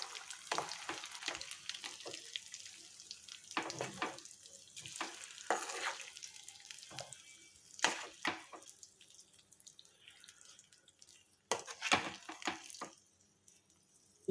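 Tomato and red chilli chutney is mixed into its tempering with the stove off, heard as quiet, intermittent scraping and squelching strokes of a spoon, close and alone, with gaps of near silence.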